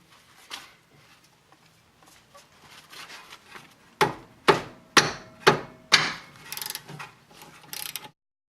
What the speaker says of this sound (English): we'll start by removing this upper slide pin here.